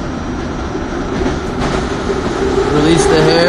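A steady rumble of a train ride fills the clip, loud and close with a continuous rolling drone and faint rail squeals, while a person speaks briefly over it.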